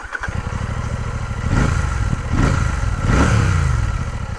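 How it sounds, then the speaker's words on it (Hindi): A Royal Enfield Classic 650 parallel-twin motorcycle's dual exhaust burbling close by, heard on-helmet, its throbbing note swelling in three successive revs before settling back to a steady rumble. "इसका ऑन हेलमेट इसका एग्जॉस्ट साउंड सुनते हैं,"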